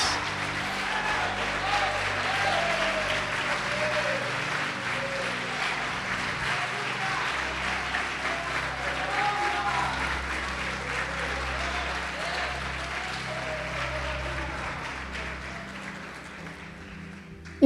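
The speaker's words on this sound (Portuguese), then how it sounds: "Quem pode aplaudir o Senhor Jesus?" Sustained applause from a large church congregation during a sermon, steady and dense for many seconds, with faint tonal music underneath and voices mixed in, tapering slightly at the end.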